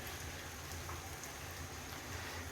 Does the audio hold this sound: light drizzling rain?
yes